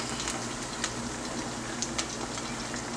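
Pumpkin and salted cod fritters fry in a pan, a steady soft sizzle with scattered small pops and crackles, fairly quiet and continuous with no talking.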